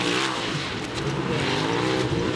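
A Polaris RZR side-by-side races on a bumpy Terracross dirt track, its engine a loud, steady, close roar with rising and falling pitch as it pushes through the course.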